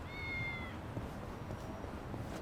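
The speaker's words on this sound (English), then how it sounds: "I just wanted this cat though." A cat in the video game Yakuza: Like A Dragon gives one short, faint meow over steady background game ambience.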